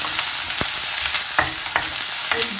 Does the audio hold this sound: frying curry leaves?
yes